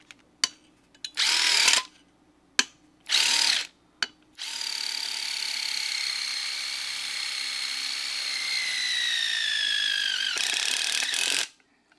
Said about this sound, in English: So here's a self-tapper. It's very stable on here.